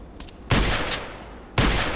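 Two loud, sharp shotgun blasts from a KelTec KSG pump shotgun in the Contract Wars video game, about a second apart, each with a heavy boom that decays into a ringing tail.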